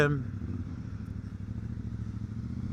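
A CF Moto 450MT motorcycle engine drones steadily at moderate, even loudness while riding along a country road, holding around 2000 rpm in a lower gear, with a brief voice at the very start.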